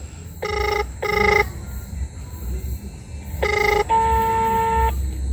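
A telephone is dialed with a few quick electronic keypad tones, followed by a longer ringing tone as the call connects, heard clearly over a low background hum.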